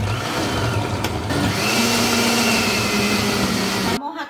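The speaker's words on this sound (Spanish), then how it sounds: "Vamos a tapar para licuar. Esta licuadora me ha durado y bastante." A kitchen blender whirs loudly and steadily as it purées spices with water for Salvadoran chicken sandwiches, its motor pitch rising and settling before cutting off abruptly near the end.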